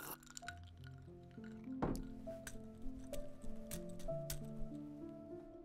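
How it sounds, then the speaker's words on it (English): Water is sipped and swallowed close up, with wet squishy gulps and small drips, while soft tonal music plays underneath. "Oh, I forgot to take a guilty sip of water."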